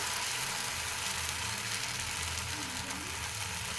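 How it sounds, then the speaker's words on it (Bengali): Dosa batter is poured thin onto a hot, lightly oiled pan and sizzles with a steady, close, even hiss that keeps going throughout. "এবার যে ব্যাটারটা বানিয়েছিলাম, সেই ব্যাটারটা আমি ঢেলে দেব, পাতলা করে দেব"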